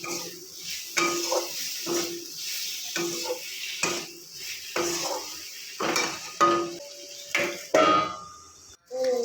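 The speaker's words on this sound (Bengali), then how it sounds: "মশলা কষিয়ে জল শুকিয়ে এলে এবার টমেটো কুচিগুলো ভালো করে দিয়ে নাড়াতে থাকবে।" Chopped tomatoes are stirred into sizzling spices in a pan, with repeated close spoon scrapes and knocks against the metal in an uneven rhythm over a steady frying hiss.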